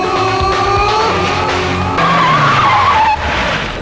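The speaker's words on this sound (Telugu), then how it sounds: "మెరుపు వేగంతో కారు వచ్చాగింది" A car arrives at high speed and skids to a halt, tires squealing loudly and close over the engine noise, with no voices.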